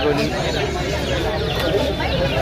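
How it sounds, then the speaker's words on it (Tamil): A flock of country chickens at a Friday market in Pallavaram clucks continuously close by, a busy chorus of short calls mixed with people talking. "நாட்டுக்கோழி"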